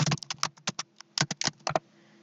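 Someone types an SQL update statement on a computer keyboard, a close burst of clicky keystrokes with two short pauses, then the keys go quiet.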